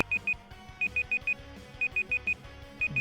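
Timer alarm going off in repeated bursts of four sharp electronic beeps, clear and steady, each group separated by a short pause, over a low background hum without speech.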